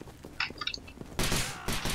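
Gunfire in the tactical shooter Takedown: Red Sabre: a few faint shots early on, then a loud burst of rapid firing, a brief pause and another burst.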